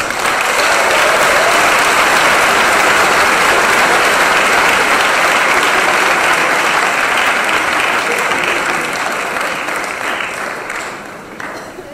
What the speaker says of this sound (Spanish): Fuerte el aplauso para Pablo Iglesias.